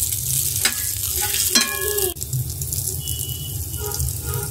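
Hilsa fish roe fries in spiced oil over low heat, producing a loud, steady close sizzle with a few sharp spatters and a brief clank of a utensil.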